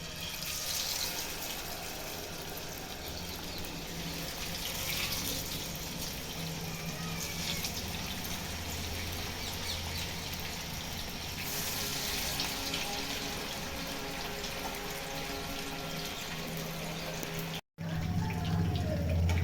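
Masala-marinated fish frying in hot oil, a steady broadband hiss and crackle that stays constant for the whole stretch, with a brief dropout near the end.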